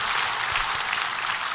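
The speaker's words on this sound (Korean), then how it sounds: "우리 환영의 박수 부탁드립니다" A church congregation applauds in welcome during a founding service, a dense, steady wash of clapping from many hands filling the room throughout.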